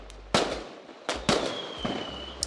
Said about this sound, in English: Fire off the fireworks.